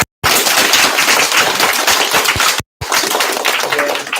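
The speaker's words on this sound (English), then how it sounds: "let's give them all a round of applause" Applause for the officials at a fall karate tournament in Santa Rosa, dense crowd clapping filling a hall, loud and sustained, with two brief cuts.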